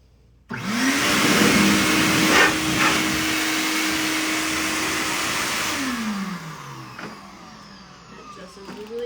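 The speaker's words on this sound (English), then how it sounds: "you can twist in the blower attachment and use it as a blower" A RIDGID professional industrial shop vacuum, fitted with its blower attachment, switches on with a sudden whoosh. It runs as a loud, steady rushing roar with a constant hum, then spins down with a falling whine.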